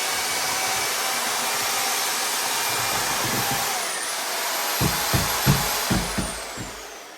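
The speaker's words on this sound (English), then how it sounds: "I'll actually mix this up because it takes a good 10 minutes of mixing to get this to the right consistency" A power mixer churns a large batch of mix at a cottage, giving a steady loud whirring drone that runs throughout, with a few rhythmic thumps of the paddle near the end.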